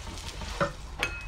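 Oil sizzles beneath a chapati (Somali sabayad) frying on a pan, a soft, steady hiss with a couple of faint clinks.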